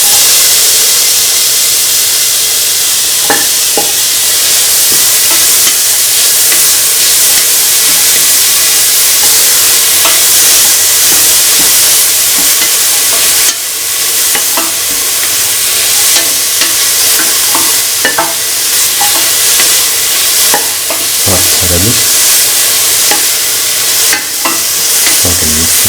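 Carrot pieces with cardamom and salt fry in a pan for a sweet carrot coconut milk pasta, giving a loud, continuous sizzle broken by occasional scrapes and clicks of stirring.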